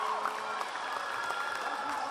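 A crowd applauds at a Kingsway vs. Crawford basketball game after a made shot, a steady wash of clapping and cheering heard under an announcer's talk.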